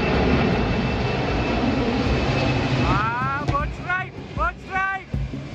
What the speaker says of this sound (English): this Singapore Airlines Boeing 747 is about to take off